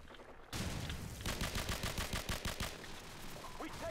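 A G3 rifle fires in Call of Duty 4: Modern Warfare, a quick run of about a dozen loud, evenly spaced shots that trail into fainter background noise.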